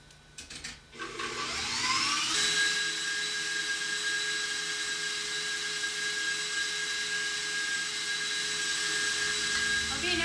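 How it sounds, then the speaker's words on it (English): An electric mixer whipping frosting for a red velvet cake: a steady, high-pitched motor whine that holds constant at close range after a few brief bumps at the start. "add one scoop at a time while the mixer's running"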